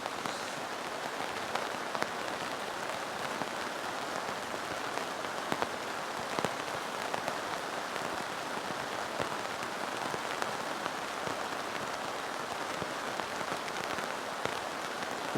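Heavy rain pours steadily onto a tent and tarp at a car campsite, a dense, even patter with scattered sharper drops and no voices.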